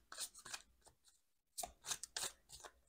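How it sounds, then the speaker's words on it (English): Tarot cards being shuffled, a series of soft, crisp riffling and sliding bursts, close and quiet, with a brief pause midway. "As I'm shuffling the cards"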